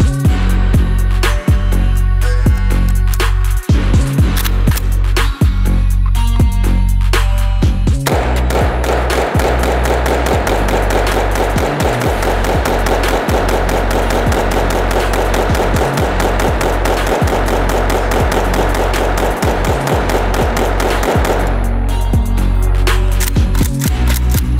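An AK rifle fed from a Schmeisser 60-round magazine fires outdoors, starting with spaced single loud shots, then a long sustained burst of rapid fire, then more separate shots; very loud and close throughout.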